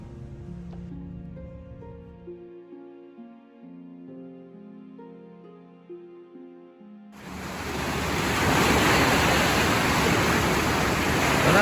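Steady, loud broadband roar of the rushing Dan River sets in partway through, after a quieter stretch of tonal music.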